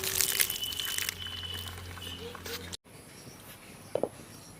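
Cold water poured in an outdoor village kitchen while cooking prawn chowmein, a bright, steady gushing stream close up that stops abruptly after a few seconds, followed by quieter background and a brief knock.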